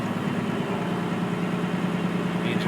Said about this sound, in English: The engine goes up. You can take it to full throttle with this.